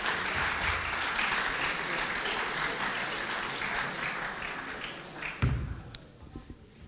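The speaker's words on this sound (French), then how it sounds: "Vous pouvez l'applaudir si vous voulez." Audience applause at a conference about the Alsace great hamster, with dense clapping that fades over several seconds, a few louder thumps near the end, then scattered claps.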